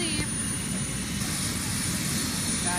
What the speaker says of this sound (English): so the helicopter's getting ready to leave